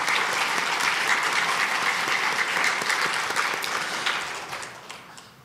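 A church congregation applauds together during a Sunday evening service, a dense, steady clapping that holds strong and then tapers off toward the end.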